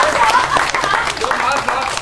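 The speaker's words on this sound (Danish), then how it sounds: "Vi klapper for hende. Og vi klapper også for ham." Audience applause at a live entertainment show aboard the ferry MS Norrona, dense clapping filling the room while a host speaks over it.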